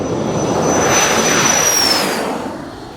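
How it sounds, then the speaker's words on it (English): Aerostar jet engines spool up to takeoff thrust: a loud, close, steady jet roar with a whining tone that rises and then fades slightly as the aircraft starts its takeoff roll. "simply advance the thrust levers to the takeoff position"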